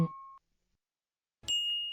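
A short bright bell ding rings out, fades, and after a pause a second, higher chime follows; both are clean notification sound effects heard alone without any talk.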